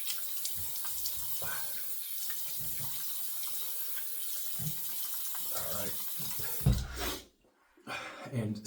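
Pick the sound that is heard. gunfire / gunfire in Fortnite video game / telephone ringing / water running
water running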